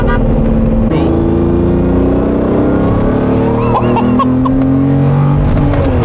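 A Lamborghini Diablo engine from the 1990s revs loud and close, pitch climbing and settling in several sweeps as the car accelerates, with no talk over it.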